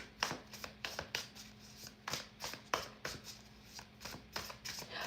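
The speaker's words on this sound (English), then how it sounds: "I love the size of these cards. They're really easy to shuffle." Tarot cards shuffled by hand, a steady run of soft riffling taps and papery slaps repeating every half second or so, close and fairly quiet with no talking.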